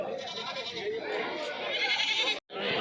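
Goats bleat repeatedly amid a busy crowd at the Kadiri livestock market, where large goats, billy goats and kids are being traded, with steady chatter and bargaining voices mixing throughout and a brief gap near the end.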